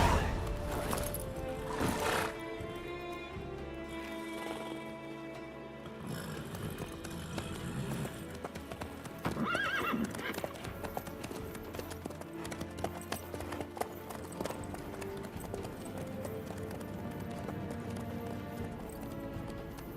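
Horse hooves clip-clop steadily in Witcher 3, with an occasional neigh, set against a dense game music and ambience bed and a brief voice.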